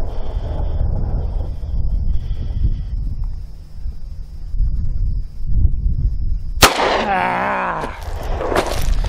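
A single sharp gunshot from a Bearman 9mm derringer cracks outdoors over steady wind noise, followed by voices talking.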